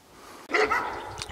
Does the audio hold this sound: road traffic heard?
no